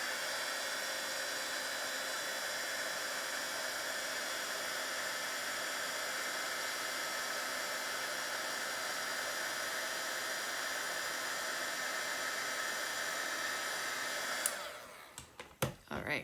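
A heat tool blows a steady, loud whooshing hiss while melting embossing powder on a watercolor birthday card, running unbroken for about fourteen seconds before cutting off into a few handling clicks and knocks.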